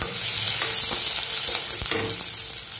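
Chopped large onion goes into hot oil with whole spices such as bay leaf, producing a loud, close sizzle with a few stirring scrapes over a short stretch.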